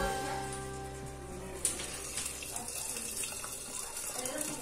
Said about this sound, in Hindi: ये हमने पानी डाल दिया